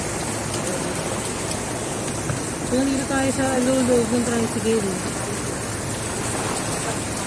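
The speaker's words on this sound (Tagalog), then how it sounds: "Oh God, ito malakas na ulan." Steady, dense typhoon rain roars nearby, with a voice speaking over it partway through.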